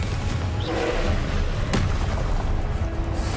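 A Confringo fire spell explodes in a magic-themed video game, a deep booming blast under dense low rumble with a sharp burst near the middle, steady loud game sound throughout.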